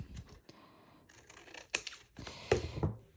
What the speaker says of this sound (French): j'ai oublié de couper l'excès